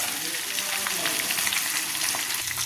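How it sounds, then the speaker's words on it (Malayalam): Quail fry sizzling in hot oil in a pan, a steady dense crackle and hiss running unbroken at close range with occasional brighter pops. "വളരെ പെട്ടെന്ന് തന്നെ നമുക്കിത് ഫ്രൈ ആക്കി എടുക്കാം"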